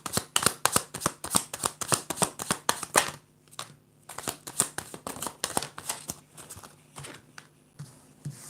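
Tarot clarifier cards are shuffled for a reading in a rapid run of crisp riffling flicks, then a short pause, then a second burst of shuffling close to the microphone.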